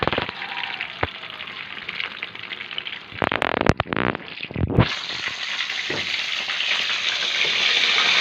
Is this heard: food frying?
yes